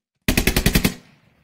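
A fast automatic burst of about seven close, loud gunshots in the military shooter game Squad, with a short echoing tail fading out.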